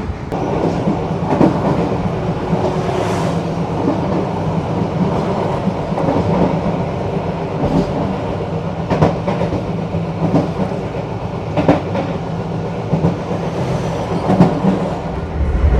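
A Banyubiru Express economy-class train rumbles loudly along curving track in Indonesia, with constant wheel roar, rhythmic clacking over rail joints and occasional metallic squeals.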